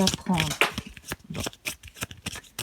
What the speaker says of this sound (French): on va tirer une dernière carte pour le bilan